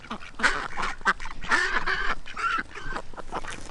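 Ducks quack in a rapid run of loud, raspy calls, several birds close by, bursts tumbling over one another with brief gaps and no talking.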